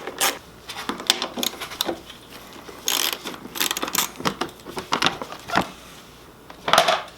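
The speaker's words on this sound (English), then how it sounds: "we're going to take our 8mm socket and take this panel off" Ratchet wrench with an 8mm socket loosening the bolts on a Kawasaki KLX300R side panel: close, loud bursts of rapid clicking from the pawl, coming in irregular runs with short pauses between them.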